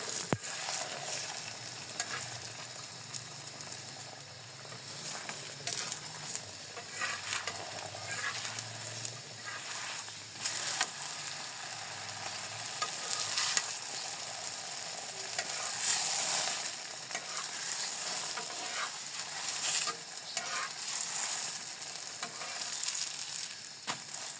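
Frozen paratha sizzling in a pan, a soft, steady hiss and crackle with occasional light stirring or turning sounds, close and continuous, no voices.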